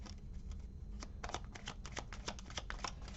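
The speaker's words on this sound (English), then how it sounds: "I know some of you don't like the shuffling" Tarot cards shuffled by hand close up, a steady run of crisp papery riffles and soft slaps with a faint low hum beneath, no voices.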